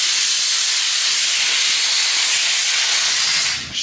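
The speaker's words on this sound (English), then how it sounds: "Fucking compressor now." Loud, steady hiss of an air compressor venting in a shop, a broad continuous rush of air that holds level for most of the clip before dipping slightly near the end, with no talking.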